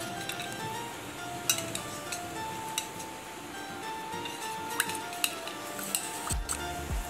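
A spoon stirring saffron into milk in a small vessel, giving light intermittent clinks and scrapes against a background of faint sizzling, with one heavier knock near the end.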